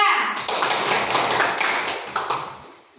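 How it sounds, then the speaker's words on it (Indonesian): Classroom students clap for a group after its presentation, a burst of uneven hand claps that fades over three seconds, with voices mixed in. "Kita beri tepuk tangan untuk kelompok 2"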